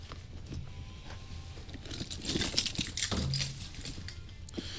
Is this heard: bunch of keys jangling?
yes